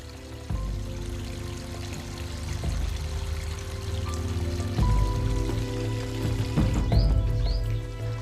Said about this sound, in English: water in Wadi Hibi Suhar flows smoothly to nourish the farms